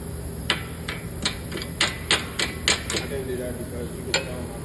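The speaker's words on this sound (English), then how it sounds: "I'm going to pop the cotter pin in" Sharp metallic taps and clicks, about ten in an irregular rhythm, ring out close by as a cotter pin is fitted into the ball joint of a Subaru BRZ lower control arm, over a steady background hum.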